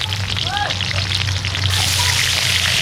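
Onions hit hot oil in a pan at a backyard outdoor cooking session, a steady close sizzle and crackle of frying with faint bird chirps or squeaks over it.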